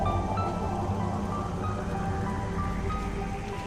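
Rain in the Talon Overworld area of the Metroid Prime video game: a steady, even patter of rainfall with a low rumbling bed, constant throughout with no talk over it.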